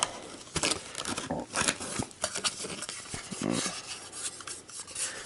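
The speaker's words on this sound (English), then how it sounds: "Let's pop this out. Jeez. It's actually kind of hard to pop it out." A King Dian SSD is pried out of its aluminium casing, producing close, irregular scraping, rubbing and clicking bursts of plastic and metal that come in uneven spurts, with no speech.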